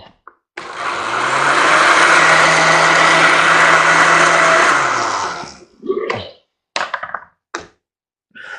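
A blender mixing water and essential oils runs loudly for several seconds with a steady whirring roar, then stops, followed by a few short knocks and clunks.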